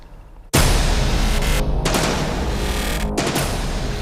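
Firecrackers: a sudden loud burst of crackling explosions starts after a brief quiet moment, then continues as a dense, sustained barrage of rapid pops and bangs.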